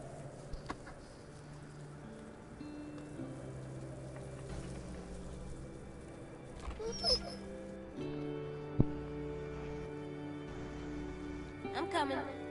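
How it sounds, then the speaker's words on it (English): Big dog in a video game whimpers and lets out short yips, soft high squeals rising over a steady background of game music and ambience while people talk throughout. "That dog is huge."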